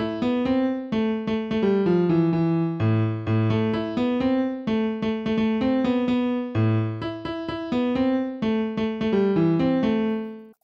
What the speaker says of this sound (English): this is the drop melody I have come up with